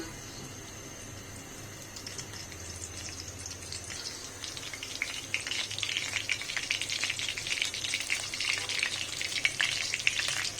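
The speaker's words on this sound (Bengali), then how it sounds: "2 টেবিল চামচ অয়েল দিয়েছে, গার্লিক কুচি করে দিয়েছে" Chopped garlic fries in two tablespoons of oil, starting as a faint hiss that builds into a brighter, busier crackling sizzle with fine spattering pops, heard up close without speech.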